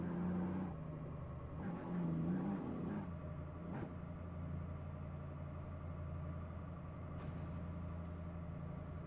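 A truck in American Truck Simulator idles and rumbles with a low engine drone, while short air-brake hisses break through at intervals over steady road noise.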